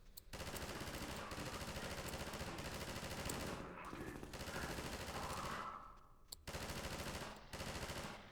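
Weapon fire in the video game Half-Life 2 comes as sustained rapid automatic bursts, loud and dense, broken by brief pauses and a few sharper single shots.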